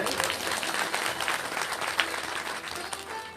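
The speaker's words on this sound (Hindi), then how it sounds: "तालियां बजा दीजिए भाई।" Dense, steady applause from a crowd gathered for a Bhagavat Katha, with claps packed closely together.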